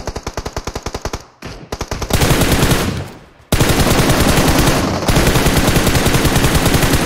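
Rapid automatic gunfire rattles in a shooter video game tournament match, loud, close and in sustained bursts, with brief pauses between strings of shots.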